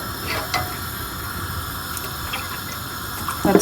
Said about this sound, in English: I'm going to add milk.